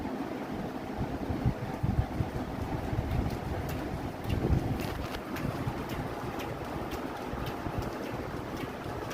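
An electric fan and an air conditioner run together indoors, making a steady, unbroken whoosh of airflow with a low rumble and no speech over it.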